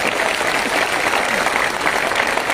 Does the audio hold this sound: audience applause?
yes